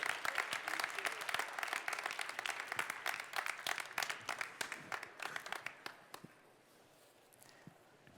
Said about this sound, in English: one big round of applause for all of our sponsors, please